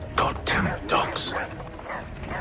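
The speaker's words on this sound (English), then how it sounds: "Goddamn dogs." Dogs bark and yip in several close, sharp bursts during a tense standoff, mixed with raised voices and a whimpering edge between barks.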